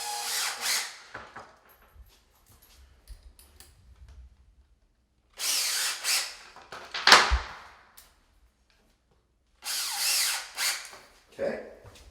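A power drill pre-starts screws along a shower tile edge, with three loud whirring bursts at the start, middle and end, and quieter handling knocks in between.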